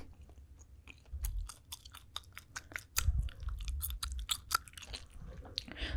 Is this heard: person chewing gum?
yes